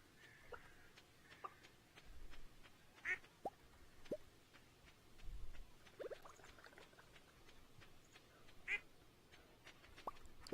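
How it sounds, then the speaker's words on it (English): A farm duck quacks repeatedly in the Stardew Valley video game, making short, scattered calls over a quiet background with other soft clucking. "Yes, yes, I hear you, duck."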